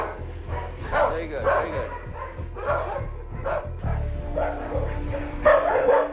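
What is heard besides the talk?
dog barking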